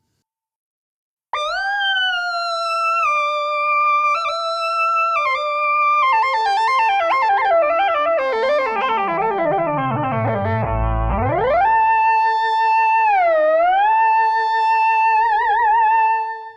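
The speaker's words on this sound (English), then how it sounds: "Now add some reverb. And an octave effect." An analog synthesizer plays a sustained gliding line through reverb and an octave effect, with stacked pitched layers, a long sweep falling into a low rumble and rising again, loud and alone.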